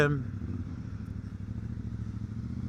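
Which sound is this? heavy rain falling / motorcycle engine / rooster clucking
motorcycle engine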